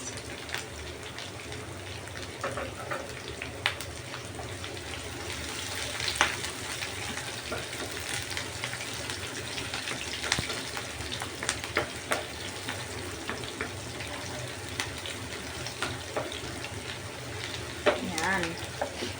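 Onion sizzles and fries with browned garlic in a pan, a steady close crackle with occasional stirring clicks and no talking.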